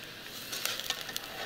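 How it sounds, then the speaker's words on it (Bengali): Ginger paste frying in a pan, a soft, steady sizzle with a few faint crackles and stirring scrapes, quiet and close. "আদা বাটা একটু আয়ত্ত ভেজে নেব"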